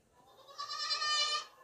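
A goat for sale at a livestock market gives one loud, nasal, quavering bleat, close by with no talk over it.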